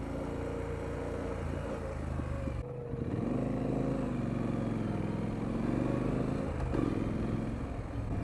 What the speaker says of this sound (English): Getting pretty fast in first gear